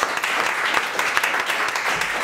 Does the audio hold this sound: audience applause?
yes